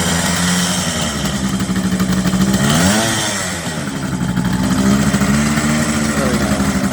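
A 1978 Kawasaki KH400 two-stroke motorcycle engine runs roughly on only one cylinder after being in storage, a loud, close, uneven buzzing idle with a brief rise and dip in revs partway through, with no talk.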